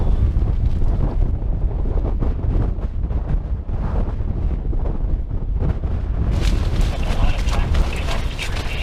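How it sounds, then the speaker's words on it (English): Strong wind gusting around a tent pitched on exposed ground, roaring loud and close with heavy buffeting on the microphone that swells and eases in waves. "That wind's come back."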